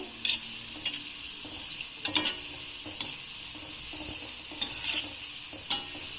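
Maida dough balls (gulladaki undi) frying in hot oil over a low flame while being stirred steadily, a continuous close sizzle broken by repeated sharp scraping clicks of the stirring spoon, with no talking.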